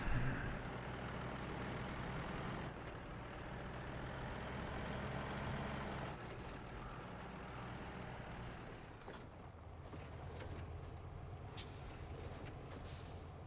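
Heavy truck in the video game SnowRunner rumbling along with a steady low engine drone, then a hiss of air brakes and a few higher clanks near the end.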